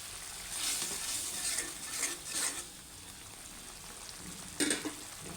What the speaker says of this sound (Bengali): এগুলো দিয়ে মশলাটা আগে কষিয়ে তারপরে সবজি দিয়ে দিব